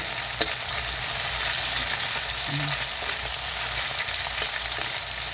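Chicken skin fries in a pan with a steady, fairly soft crackling sizzle, small pops scattered across the continuous bubbling, no voices.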